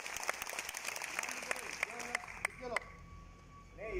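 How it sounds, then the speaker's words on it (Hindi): Workers at a building-products company quiz session break into applause, a brief burst of clapping mixed with voices and crowd chatter, fading into murmurs. "जोरदार ताली बजाओ"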